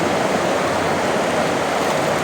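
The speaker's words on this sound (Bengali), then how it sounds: "এতটা পরিমাণে বড় বড় ঢেউ উঠছে, কারণ পুরো দোকানের ভিতরে জল চলে আসছে।" Storm waves surging and flooding water into a shop during rough weather, a steady loud wash of rushing water filling the whole moment with no pauses.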